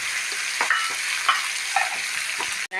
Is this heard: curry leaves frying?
yes